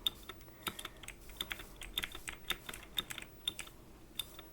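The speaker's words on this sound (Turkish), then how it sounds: "Klavye sesi çok geliyor olabilir." Fast, irregular clicking of keys on a computer keyboard during Minecraft play, close up and fairly quiet, with no one speaking.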